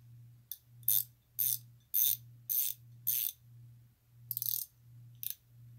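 Pittsburgh-brand wrenches clink and rattle sharply in a series of short metallic bursts, about nine separate handling clatters over a steady low hum, close and moderately loud with no talking.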